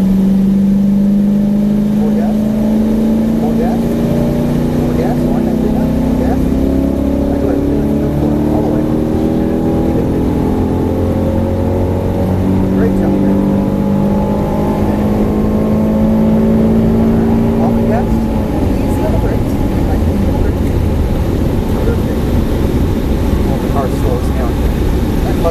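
A Ford Mustang GT500 on a Las Vegas track accelerates with a loud engine note that rises steadily through long pulls, then eases off near the end, with a voice talking over it.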